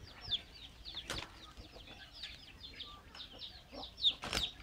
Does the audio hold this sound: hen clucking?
yes